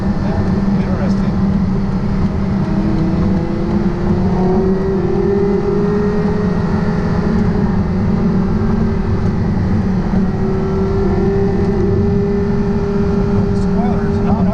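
Porsche Carrera GT engine running while driving on the street, a steady loud drone with a sustained engine tone that rises and falls gently, under continuous talk from people in the car.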